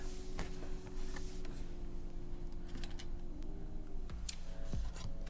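Scissors snipping off the corners of scored paper for a handmade hand sanitizer gift box: quiet close snips and small crisp clicks over a low steady background hum, with no talk.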